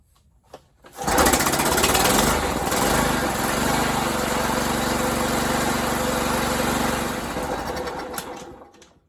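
A John Deere JX75 lawnmower with a Kawasaki engine starts on choke after carburetor cleaning, catching after a brief pull and settling into a loud, steady buzzing run for about seven seconds before winding down.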